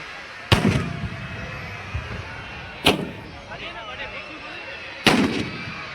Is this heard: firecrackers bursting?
yes